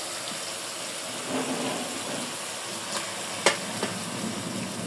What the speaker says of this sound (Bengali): মশলা কষানো হয়ে গেছে মুরগির গোছগুলো দিয়ে দেবো